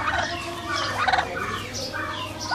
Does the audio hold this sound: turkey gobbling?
yes